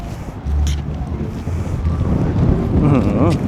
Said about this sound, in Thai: ลม